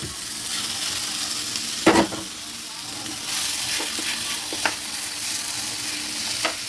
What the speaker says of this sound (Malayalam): വാടി ഒരു പാത്രത്തിലേക്ക് മാറ്റി വെച്ചതിന് ശേഷം ചെമ്മീൻ വറുക്കാനിടാം.